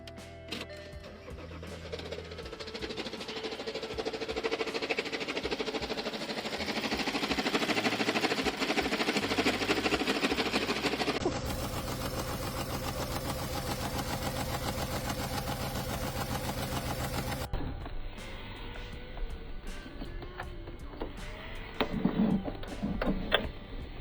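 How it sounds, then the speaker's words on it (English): A car engine drones steadily for a long stretch while moving, a broad mechanical rumble with some rattling, shifting character partway through, no voices. "this engine noise is a whole different expensive issue"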